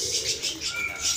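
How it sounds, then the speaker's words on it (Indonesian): Caged birds at a market bird kiosk near a fruit market make a steady chorus of overlapping chirps, tweets and cooing with a few whistles. A faint rustle of wings carries over a soft background hum. "segala jenis burung yang ada di kios"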